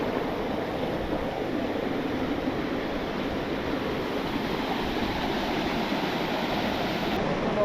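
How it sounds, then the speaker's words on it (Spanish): A small waterfall spills into natural rock pools outdoors, giving a steady, loud, broadband rush of falling water that holds constant throughout with no voices. "Es una cascada también, pero más pequeña."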